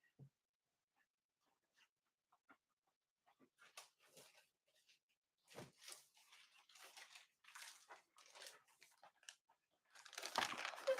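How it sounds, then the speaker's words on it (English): Plastic protective bag holding a Charlier trumpet etude book crinkles and rustles in scattered bursts, growing busier and louder toward the end, close by in a quiet room with no talk. "I have my Charlier book in a protective plastic bag"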